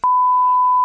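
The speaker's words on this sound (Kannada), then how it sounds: "ಅದೆಲ್ಲ ಬೀಪ್ ಸೌಂಡ್ ಹಾಕೋಕಾಗುತ್ತೆ ಆಮೇಲೆ" A censor beep: one loud, pure electronic tone lasting just under a second, heard alone and cut off abruptly.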